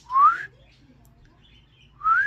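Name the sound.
pet parrot whistling in the background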